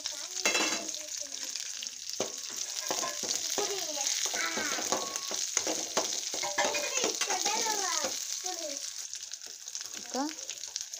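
Green chillies fry in hot oil for dabbu menasinakayi, a steady close sizzle with stirring scrapes throughout, while voices talk faintly over it.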